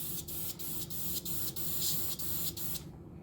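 A spray gun hisses in steady bursts, with rhythmic pulses about three times a second, close by and continuous until it cuts off near the end.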